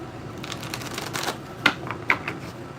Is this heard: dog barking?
no